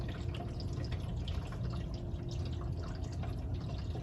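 A coolant and water mixture pours into the radiator of a 2007 Chevrolet Malibu Maxx, making a faint, continuous gurgling trickle with soft drips, heard up close with no talking.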